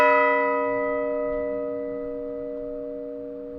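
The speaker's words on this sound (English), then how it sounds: "what we have here is a single bell dating from 1861, and it's a Mears bell" A single Mears church bell cast in 1861, hanging in a bell cage at Wood Rising in Norfolk, rings out once with a rich humming tone that decays slowly over several seconds, close and alone.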